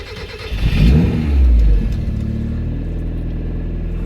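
Turbocharged Mazda MX-5 engine cranks and fires with a loud rising rev, then settles into a steady, throaty idle close by.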